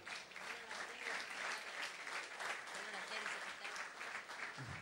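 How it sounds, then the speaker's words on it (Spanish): Applause from the audience at a political congress fills the room, a steady, dense roll of many hands clapping at a distance with voices mixed in under it. "Un aplauso a la compañera Dirrado."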